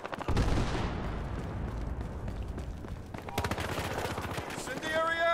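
Heavy gunfire from the shooter game Battlefield Hardline, dense rapid bursts of automatic fire and loud shots crackling continuously, up close and layered, with a few scattered game sound effects near the end.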